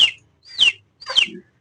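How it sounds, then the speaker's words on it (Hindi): A pet bird gives three short, bright chirps spaced about half a second apart, close and clear against near silence, with no talking. "ये रही प्यारी प्यारी चिड़िया"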